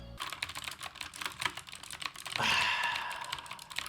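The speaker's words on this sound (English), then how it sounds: "you get that great tactile response, along with that beautiful but loud clicking sound" Rapid clicky keystrokes from a mechanical keyboard with blue switches rattle along steadily and close by, with a brief louder stretch near the end.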